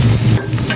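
Onions frying in hot oil make a loud, steady sizzle, with a spoon stirring them around the pot for a mutton curry. The burst is brief and continuous, with no voices.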